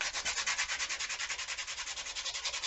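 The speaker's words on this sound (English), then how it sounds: "I'm going to take a sanding piece of sandpaper to where I had to peel the staple out for the hanger" Sandpaper rubbing back and forth over a small spot where a staple was pulled from a craft piece, smoothing fuzzy edges; steady, close, rhythmic strokes at roughly eight per second with no voices.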